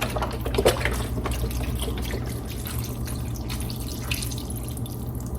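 Chicken broth from a 32-ounce container pours steadily into a crockpot for soup, a continuous close liquid splash and trickle with no talking over it.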